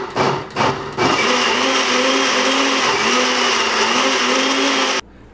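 Countertop blender pulsing red cabbage leaves: two short bursts of the motor, then a sustained whirring run of about four seconds that cuts off abruptly, loud and close.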